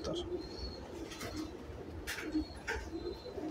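A pigeon gives repeated low coos close by, soft and rhythmic, with small rustles and faint chirps between them.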